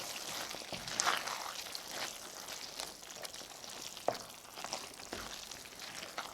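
A spoon stirs a pasta meat sauce with parsley in a pan. The sound is soft and close: low simmering hiss with scattered light scrapes and taps.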